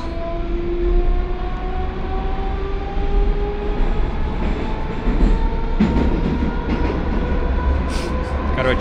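Loud, steady rumble of a moving metro car with rising motor whine and rhythmic track clatter; no talking.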